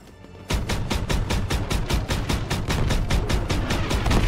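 Rapid, sustained gunfire from a Call of Duty WW2 World War II battle, starting abruptly after a brief quiet moment and continuing as a loud, evenly spaced stream of automatic shots.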